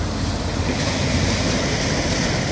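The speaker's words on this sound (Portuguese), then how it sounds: "O som do mar é muito gostoso, é relaxante." Sea waves break and wash continuously at Ponta da Praia, a steady broadband surf roar mixed with some wind buffeting on the microphone, filling the whole stretch with no talk.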